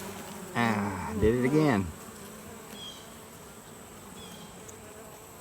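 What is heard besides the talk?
honey bees buzzing during Layens hive inspection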